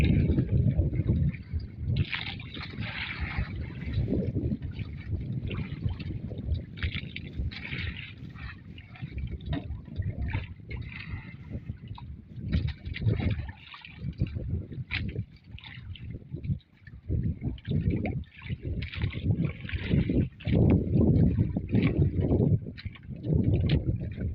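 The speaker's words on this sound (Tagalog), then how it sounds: "Grabe, lakas pa rin ng hangin." Strong wind buffeting the microphone in uneven gusts, rumbling and roaring throughout, with faint water sounds underneath.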